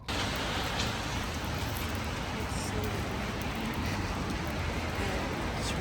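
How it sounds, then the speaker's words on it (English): Steady, broadband rain pouring down close by, a dense continuous hiss with no letup and no talking. "It's raining."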